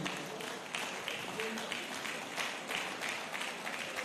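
Applause fills a pharmacists' continuing education conference hall in Lagos, a steady dense clapping wash lasting throughout, with voices mixed in beneath it.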